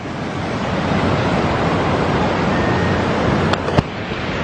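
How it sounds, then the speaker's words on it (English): Floodwater of a rising river during Tropical Storm Vinta in Cagayan de Oro, Philippines, a loud steady rushing roar close by, with a couple of sharp knocks near the end. "The river's rising up."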